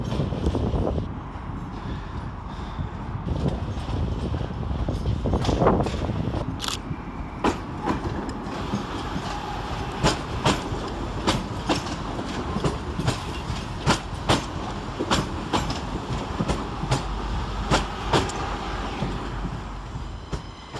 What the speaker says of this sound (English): arriving to terminate with a Northern Rail service from Stoke-on-Trent is 323226